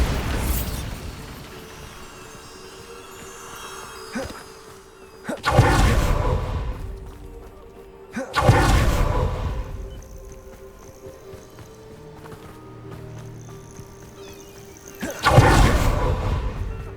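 Three Bombarda explosion spells from Hogwarts Legacy go off in turn, each a heavy, booming blast that swells and then rolls away, separated by quieter magical ambience and faint hum.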